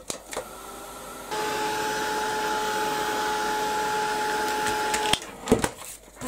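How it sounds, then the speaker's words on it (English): A heat gun blows hot air over a mixed media craft tag with a steady whirring hiss and a faint whine. It runs for several seconds, then clicks off, with small handling knocks before and after. "I'm going to give that a quick blast with the heat gun"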